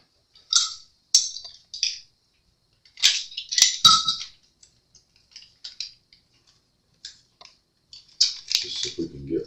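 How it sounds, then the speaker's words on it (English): Scissors snip open a package of guitar pickup parts in a series of sharp, close cuts and crinkles, irregular and spaced out, with quiet handling between snips. "Let's just cut this open."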